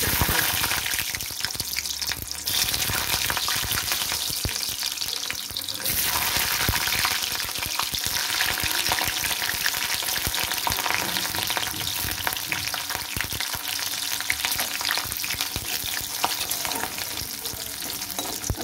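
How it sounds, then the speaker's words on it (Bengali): Garlic frying in hot oil in a pan while dried fish is cooked, giving a loud, steady sizzle with crackling bursts and occasional stirring scrapes throughout, with no talking. "রসুনগুলো লাল লাল করে ভেজে নেব।"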